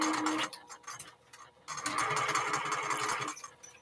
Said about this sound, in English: And I'm sewing one of these little bears.